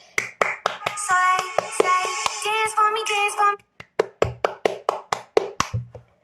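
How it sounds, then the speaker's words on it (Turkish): Applause at a dance show in the Toca Life game. A sustained tonal, voice-like cheer is followed by a run of sharp, evenly spaced claps, close and distinct. "Birazcık daha yüksek alkış."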